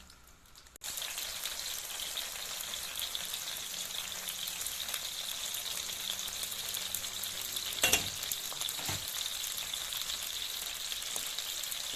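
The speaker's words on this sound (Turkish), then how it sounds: "tavamızda 4 yemek kaşığı sıvı yağ aldım. Domateslerimizi diziyorum." Tomatoes laid into oil in a pan start frying with a sudden onset, then a steady close sizzle and crackle continues throughout, with a brief clatter partway and no talk.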